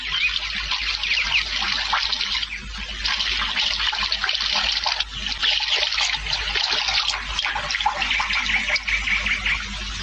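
Water sprays out through small holes in a container like a shower, a bright, hissing trickle with rapid dripping and splashing that pulses in bursts, close and fairly loud with no talk.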